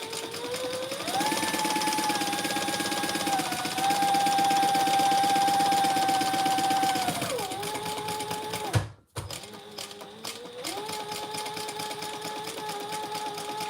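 A sewing machine runs steadily for several seconds, stitching a second pass close beside an earlier line of stitches, then pauses briefly and starts again at a similar pace; the motor's hum is loud and near, with no talking.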